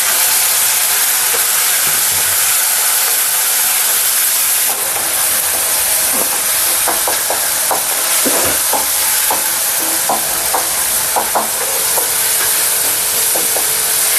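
Tomatoes go into a hot frying pan for a liver fry and are stirred, a constant loud sizzle with scattered scraping and clinking strokes from the stirring spoon.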